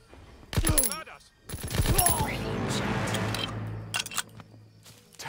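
Gunfire in Call of Duty WWII, a bursty World War II firefight with sharp cracks and a sustained stretch of rattling shots over a busy battle mix.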